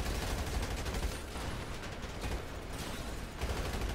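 Sustained automatic gunfire from an MG in GTA 5, dense and continuous bursts rattling steadily throughout at close range, with no talking.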